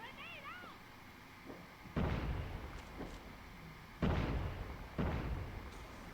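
Frag grenade blasts in a competitive search-and-destroy shooter match come as a few heavy, booming thuds spaced a second or two apart, each decaying quickly, with faint game sounds between them.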